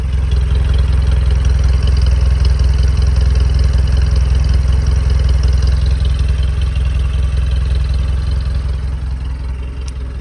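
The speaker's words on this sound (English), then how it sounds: "I'm going to let you hear the muffler" A Jeep engine idles steadily with its exhaust running through the muffler, a close, loud, low rumble with a light mechanical clatter that holds constant and eases slightly toward the end.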